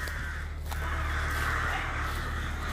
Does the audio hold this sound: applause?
no